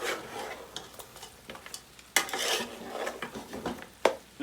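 Spices frying in a pot for a mutton and okra curry, a steady soft sizzle broken by scraping stirs and a few sharp clinks of a utensil against the pan.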